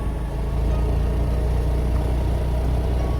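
A car engine labours steadily uphill on a steep, rough, potholed road near Burondi, Dapoli, giving a continuous low rumble that stays loud and even throughout, with no voices.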